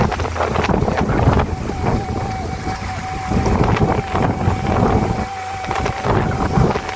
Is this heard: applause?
no